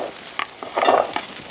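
Pumpkin tempering sizzles and crackles in a frying pan, giving a short, moderately loud burst of spattering with a few sharp pops and no talk.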